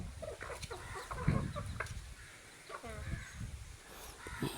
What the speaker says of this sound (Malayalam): അപ്പം അതിലേക്ക് തിന്നാൻ കൊടുക്കുകയാണ് കോഴി.